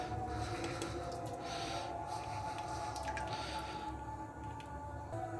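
Ingredients drop and squish into a pot holding three liters of water on a stove, a close, steady wet churning with small drips and splashes throughout, no talk.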